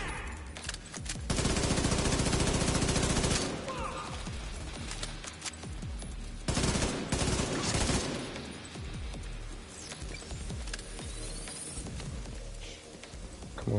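Enemy gunfire in The Division 2: long, loud automatic bursts that rattle almost continuously, rising to heavier stretches of sustained fire, with battle noise filling the gaps between them.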